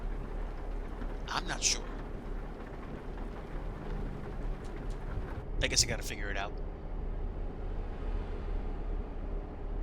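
Steady, dense rain patters on a truck and its windshield in a trucking video game, a continuous wash of noise with someone talking over it in two short bursts.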